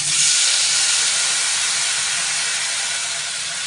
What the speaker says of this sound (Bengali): এই যে এবারে দিয়ে দিব জল,